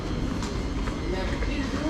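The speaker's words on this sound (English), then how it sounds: "So here is the 1646 Thameslink service, which is going to Kentish Town." Thameslink commuter train at Sutton station, a steady rumbling wash of rail noise with faint clatter throughout, close by and continuous, with a voice speaking over it.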